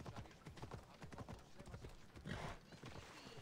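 Horse hooves clip-clop in Assassin's Creed Odyssey, a steady rapid trot of close, distinct beats with a brief swell of noise midway as the horse rides in a circle.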